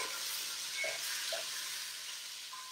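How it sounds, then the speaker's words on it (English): Chicken pieces sizzle in a hot pan, a faint continuous hiss of frying with a few soft clinks, no voices. "So this is browning up pretty quickly right now because the pan's nice and hot."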